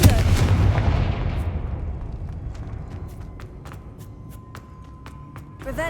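A Confringo fire-blast spell explodes in Hogwarts Legacy, a loud booming burst that rumbles and fades over several seconds, followed by scattered sharp crackles.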